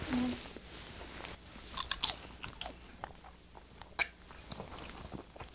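Someone chews a dried halfbeak fish snack up close, with sharp crunchy bites and rapid crackling chews that come in bursts, fairly quiet and without speech.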